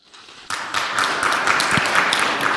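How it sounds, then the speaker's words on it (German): Audience applause at a medical congress after a talk, starting abruptly and building into sustained, dense clapping from a sizeable crowd. "Applaus"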